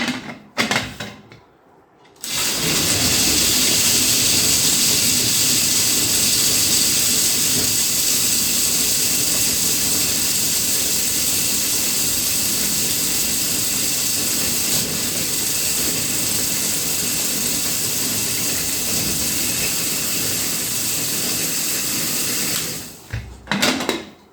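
A grinding machine shreds stale bread and dry rolls into fine crumbs, running as a loud, steady roar with hiss for about twenty seconds after a brief start, then cutting off near the end.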